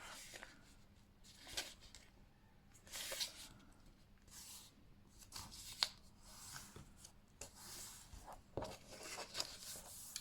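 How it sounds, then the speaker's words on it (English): A sheet of paper is folded in half for a journal cover template, giving faint, close rustling and crisp creasing swishes in irregular bursts. "And I'm going to fold this piece of paper in half."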